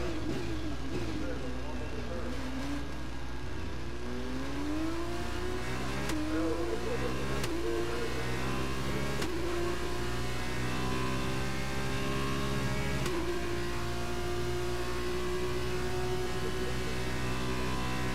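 Formula 2 race car engines on the final lap in F1 2021, a loud revving whine that climbs through several gear pulls with sharp shift clicks between them, with talk over part of it.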